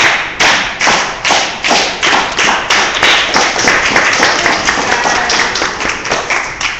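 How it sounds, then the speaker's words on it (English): A group claps together in slow, even unison beats, about three per second, loud and close, with no talk over it. "can we do like a solidarity clap just to be like, this is the end of it?"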